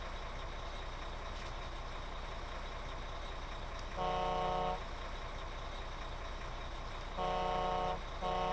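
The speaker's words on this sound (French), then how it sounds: "c'est avec le klaxon" Two loud, sustained vehicle horn blasts in the Construction Simulator 15 video game, each close to a second long and spaced a few seconds apart, over a steady low engine rumble with no talking.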